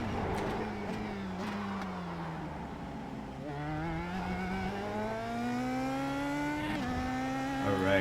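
Indy Pro 2000 race car engine in a racing simulator at Laguna Seca, a loud, continuous whine that drops sharply under braking and downshifts near three seconds, then climbs steadily again as the car accelerates.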